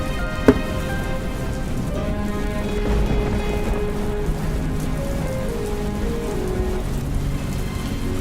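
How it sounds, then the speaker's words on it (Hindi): Steady, continuous rain pattering on surfaces, a dense unbroken wash of drops with a brief sharp knock near the start and no voices. "ये बारिश तो रुकने का नाम ही नहीं ले रही"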